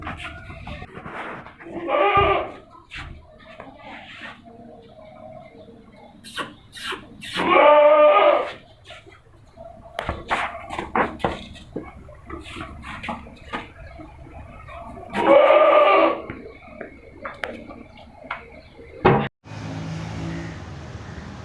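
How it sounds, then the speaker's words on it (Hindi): Goats for sale at a livestock market bleat in several loud, separate calls spread across the scene, with quieter rustling, knocks and background noise between them and a brief clatter near the end. "देखो ये हमारे पास 3 बकरियां और 2 बच्चे हैं जो हम सेल करना चाह रहे हैं"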